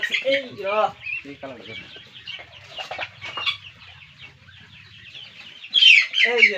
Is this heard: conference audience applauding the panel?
no